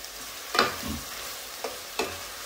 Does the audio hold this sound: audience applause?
no